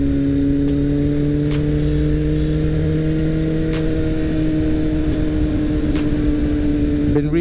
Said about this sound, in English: I love riding this bike though. It's just so smooth.